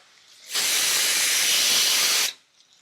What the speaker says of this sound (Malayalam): ഇതൊരു ലൈറ്റ് ഗോൾഡൻ കളർ ആവുന്നവരെ ഒന്ന് വഴറ്റിയെടുക്കാം.